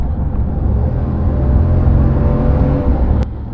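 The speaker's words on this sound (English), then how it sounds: "It sounds great when you accelerate." A Ram 1500 pickup with a 5.7 liter V8 and dual exhaust accelerates, giving a steady, loud engine roar and rumble that holds throughout with no talk over it.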